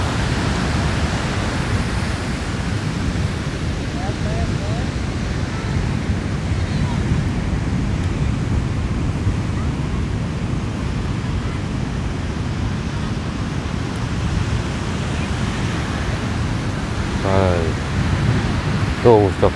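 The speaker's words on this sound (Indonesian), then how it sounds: "Karena kalau pantai selatan itu ombaknya itu besar-besar sob." Big ocean waves roll in on a south-coast beach at Ketawang, Purworejo, during a kite festival, a constant broad roar of surf mixed with gusting wind buffeting the microphone.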